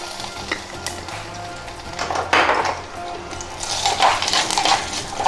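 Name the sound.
spices sizzling in hot oil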